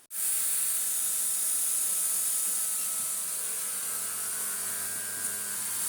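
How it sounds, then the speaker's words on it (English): A Dyson vacuum converted into a window cleaner gives off a steady, close, high airy hiss, with water spraying in a fine mist over a continuous motor drone. "with a push of the water button, I'll try and catch it now, we can see that it will spray a little mist of water every now and again"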